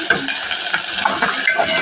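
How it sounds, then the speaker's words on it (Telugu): Chopped onion pieces fry in a pan that already has popping mustard seeds, for pepper rasam. The sizzle is close and continuous, with stirring scrapes and small utensil clinks over it. "అందులో కట్ చేసి పెట్టుకున్న ఉల్లిపాయ ముక్కలు కాస్త ఫ్రై చేసుకోవాలి"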